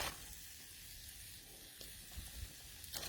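A quesadilla sizzling in a pan while a spatula folds it over, a soft steady hiss of frying with a few light scrapes, faint and close, no talking.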